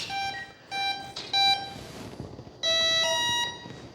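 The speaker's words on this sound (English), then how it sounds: "That's an interesting beep sequence." An RC radio transmitter beeps through its binding sequence while set up for an FMS Dassault Rafale 64mm jet: a handful of electronic beeps, short and then longer, varying in pitch, clear and close with no talking.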